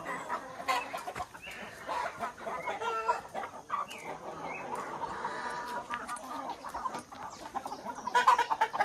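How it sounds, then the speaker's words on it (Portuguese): Many chickens on a small rural farm cluck and squawk steadily all around at close range, with scattered sharp clicks and bursts of activity throughout. "Bastante galinha, né?"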